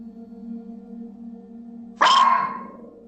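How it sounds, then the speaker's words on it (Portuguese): A single sharp dog bark bursts out close and loud after a stretch of steady low hum, then fades. "começa a latir sem parar"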